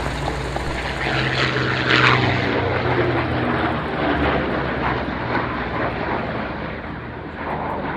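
A propeller airplane's engines idle on the ground at an airfield, giving a loud, continuous close-up drone that swells slightly near the start and then holds steady. No voices are heard.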